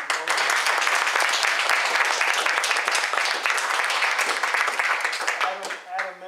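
A crowd gives a big round of applause for the honorees Don and Lois at a gathering, with dense, sustained clapping throughout that thins and tapers off in the final second.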